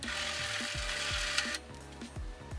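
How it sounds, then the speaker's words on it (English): A power drill boring a hole in foam to make a ring, a steady whirring motor hum with repeated grinding strokes as the bit works through the material. "Next thing you want to do is drill a hole close to the size of the finger"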